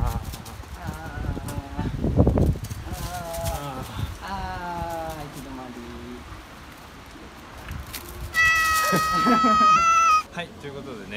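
A cat meows several times nearby in a street alley in Matsumoto, drawn-out plaintive calls, ending with a louder, higher meow; light outdoor background noise.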